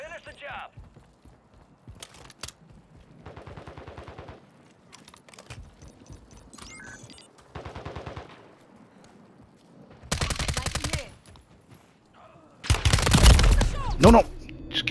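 Gunfire during a Call of Duty match in Urzikstan, with loud broadband bursts of shots near the end after quieter stretches of scattered game sounds and talk.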